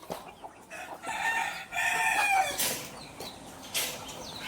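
Desi country chickens clucking and crowing inside a poultry shed, with a rooster's rising crow standing out mid-clip over steady hen chatter and occasional wing flaps, fairly close and clear.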